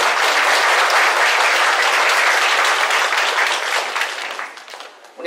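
An indoor church congregation applauds to welcome visiting missionaries. The clapping is loud and sustained as a dense wash of many hands, then thins and fades toward the end.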